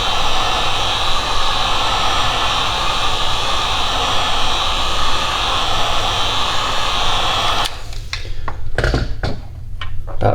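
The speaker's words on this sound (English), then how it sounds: "with a heat gun." A heat gun warming abalone veneer on a custom fishing rod blows a loud, steady broadband roar for several seconds, then cuts out into a few short bursts and clicks.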